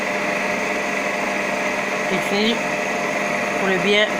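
A stand mixer turns at low speed while flour goes into the bowl, a steady motor whine with someone speaking over it.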